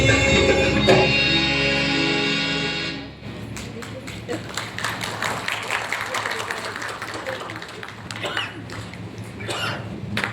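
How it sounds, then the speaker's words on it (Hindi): After a stage performance, sung music cuts off and an audience breaks into applause, moderately loud and uneven clapping with scattered claps and coughs throughout. "आपकी तालियां बहुत धीमी है इस प्रस्तुति के लिए"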